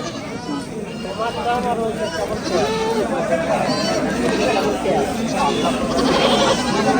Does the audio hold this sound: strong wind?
no